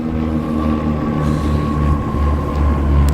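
An airplane passes overhead outdoors, a steady, loud low drone that holds for the whole stretch with no talking.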